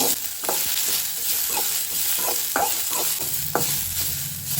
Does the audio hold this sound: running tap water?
no